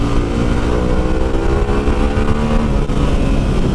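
Harley-Davidson Pan America motorcycle engine running steadily, a loud, continuous throaty drone with a close, even rumble and no speech.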